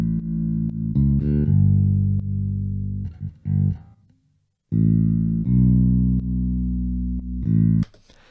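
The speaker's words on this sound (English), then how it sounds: "we can just hear the bass completely by itself. And you'll hear it just slightly moving out the way" Solo bass line with drums muted and sidechain compression making it dip subtly in level, sustained notes holding steady and then ducking briefly, with one short gap of silence partway through.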